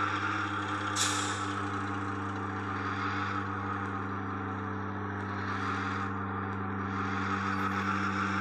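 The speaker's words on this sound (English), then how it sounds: "Yep, it works. And the truck runs good." Scania P480 garbage truck with a McClain EZ Pack Hercules body in a trash truck simulator game: steady droning diesel idle with low hum, a sharp air brake hiss near the start and a fainter hiss later, no talk.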